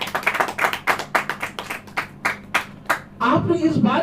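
A church congregation claps in brisk, uneven bursts of hand claps that fade into a louder wash of crowd noise near the end.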